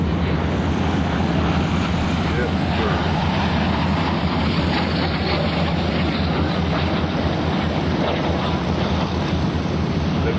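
A steady, loud roar of a Hawk jet flying low down the runway at the 2004 NAS Oceana airshow, constant and rumbling with wind noise, while a voice briefly speaks.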